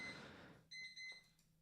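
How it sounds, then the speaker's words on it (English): A personal alarm going off as a few short, high electronic beeps in quick succession, fairly faint and alone after a brief burst of noise. "it's my alarm"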